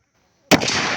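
A single loud gunshot cracks out after a moment of near silence during local militia firearms training, followed by a ringing echo that carries on to the end.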